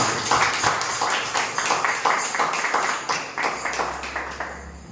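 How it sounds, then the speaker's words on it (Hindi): A church congregation at a Sunday Hindi praise-and-worship service claps steadily and loudly in an even rhythm, with the sound carrying through a reverberant hall under a low background hum. "एक जोरदार ताली हमारे परमेश्वर के लिए होती है।"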